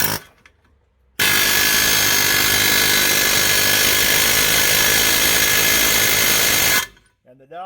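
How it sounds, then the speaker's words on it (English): An Edge series 114 GQC pneumatic air hammer chisel fires in one loud, continuous rattling buzz lasting about six seconds, with a faint hiss and handling noises just before and after. "Pneumatic chisel. This is a 114 GQC air hammer, Edge series."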